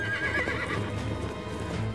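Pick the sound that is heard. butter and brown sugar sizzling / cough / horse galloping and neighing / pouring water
horse galloping and neighing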